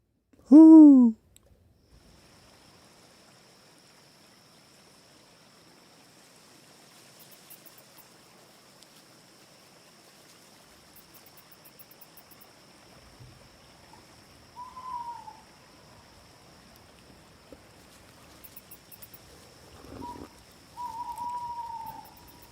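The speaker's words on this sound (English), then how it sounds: "Let's look for owl noise." Synthetic owl hoots from a forest sound app, a short loud call at the start followed by softer, wavering hoots later over a faint steady ambient hum and distant trickling background.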